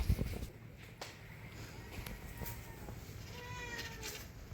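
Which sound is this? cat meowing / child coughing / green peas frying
cat meowing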